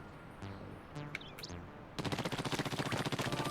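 Ink weapon firing in the Splatoon video game (Hero Mode finale), with a few spaced splats giving way to a rapid, continuous stream of rhythmic shots that stays loud through the end.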